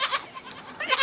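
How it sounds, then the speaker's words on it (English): Goats bleat in a Texas ranch setting, giving a few quick, nasal cries in a row. The cries are close and clear, with no talk. "Goats and sheep, but mostly goats."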